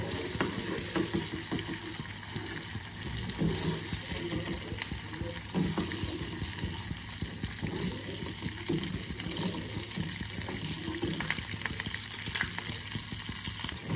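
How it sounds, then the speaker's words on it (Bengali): Pieces of paneer fry in hot oil in a kadai, giving a steady, loud sizzle with watery crackle and occasional stirring scrapes throughout, no voices. "বাকি পনিরগুলোকেও ভেজে নিচ্ছি।"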